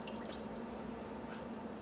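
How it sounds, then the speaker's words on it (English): Beef bone broth drips steadily into a pot, a faint, continuous trickle with no voices over it. "I'll let it drip in there for a few minutes yet"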